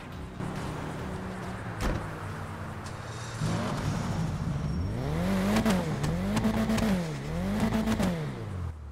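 A 2017 Nissan GT-R R35 sports car engine in a video game revs up and down repeatedly, rising and falling in pitch with a smooth synthetic tone, loud and close.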